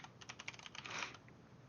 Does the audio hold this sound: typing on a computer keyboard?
yes